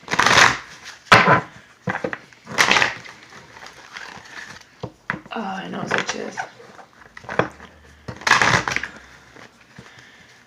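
A deck of cards is shuffled in several bursts of riffling and rustling, close by, with someone speaking briefly between them.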